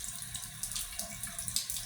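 Water runs steadily from a sink faucet in a rented apartment in Angeles City, a continuous close splashing hiss with small irregular spatters and no voices.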